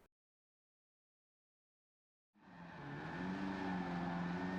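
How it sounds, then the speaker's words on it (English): A '69 Chevrolet Corvette Stingray C3 with an engine swap drifting around Suzuka in Gran Turismo 7: after a couple of seconds of silence, a loud, steady engine roar starts abruptly and holds at high revs. "The Chevrolet Corvette Stingray C3 is such a lovely chassis to drift"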